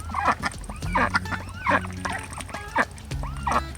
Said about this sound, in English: they became more chatty and started to make more noises when they wanted our attention